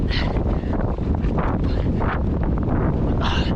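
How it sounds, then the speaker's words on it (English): Wind roars and buffets the microphone during an outdoor training bike ride, a loud, continuous rushing that stays steady for the whole stretch with no speech. "Okay, the wind does not help today."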